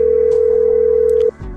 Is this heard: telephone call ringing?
yes